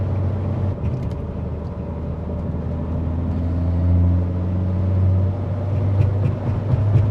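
A Mk4 VW 1.8T turbocharged engine drones low and steady from inside the car, with faint fluttering hints under the hood rising slightly in level midway through, with no voices.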